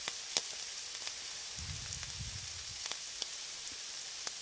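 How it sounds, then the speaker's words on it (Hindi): Keema and tomatoes cook in oil over a medium-high flame, giving a quiet, steady sizzling hiss with a few faint crackles and a soft low rumble midway. "मीडियम से हाई फ्लेम पर इसको हम पकाते रहेंगे जब तक हमारे टमाटर अच्छे से मैश ना हो जाए"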